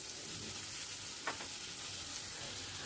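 Chopped tomato goes into onions frying in a pan. A soft, even sizzle hums throughout, broken by one brief rustling clack as the tomato lands, fairly quiet and close.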